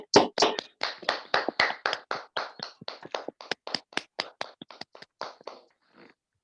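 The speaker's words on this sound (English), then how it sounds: "if we can just have a huge round of applause for our outgoing president" Steady, distinct hand claps of about twenty beats ring out near and fairly loud for an outgoing club president at a Toastmasters meeting, fading in the last second with no talk over them.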